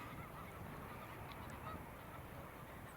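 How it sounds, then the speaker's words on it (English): Wild geese gathered on the coast at Heacham, Norfolk, in mid-October, honking together as a dense, continuous distant chorus of overlapping calls that holds steady throughout. "lots of geese around."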